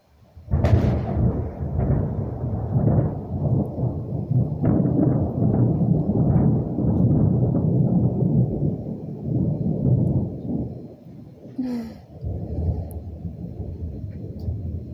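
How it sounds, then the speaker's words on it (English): Loud, long rolling thunder from a storm, rumbling deeply and steadily for most of the stretch before easing off near the end, heavy enough to shake a floor. "That was the first real thunder of this storm, and it was so big, it scared my cat and shook the floor."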